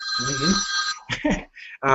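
A phone rings with a bright, steady electronic tone for about a second, close and fairly loud, then a person speaks briefly.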